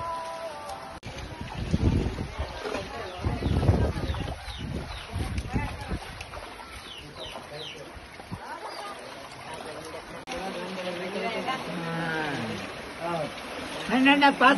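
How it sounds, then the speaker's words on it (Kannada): Rain and floodwater rush and flow steadily through a flooded village under faint wind, with no voices in the foreground. "ಈಗ ನೋಡಿ, ಈ ತರ ಎಲ್ಲ ಮಳೆ ಬರ್ತಾ ಇದೆ. ಮಳೆ ಬಂದ್ಬಿಟ್ಟು ನೀರು ನುಗ್ತಾ ಇದೆ."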